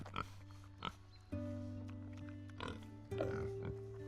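Pigs on a Cagayan Valley farm oink and grunt in short bursts, several animals close by, with sustained squealing calls, no talk.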